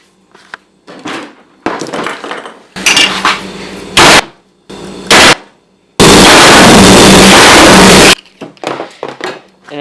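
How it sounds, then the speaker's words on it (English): A hammer strikes a broken Xbox controller in a series of loud, sharp impacts, some in quick bursts, ending in one sustained harsh crunching stretch, with brief talk between the blows. "So get your hammer."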